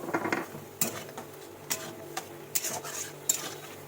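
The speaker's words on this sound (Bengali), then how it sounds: "এটাকে এবার নাড়াছাড়া করে নিই যতক্ষণ না তেল ছাড়ছে" Spices are stirred in a pan until the oil separates, with quiet intermittent scrapes and knocks of a spoon against the metal over a faint low sizzle.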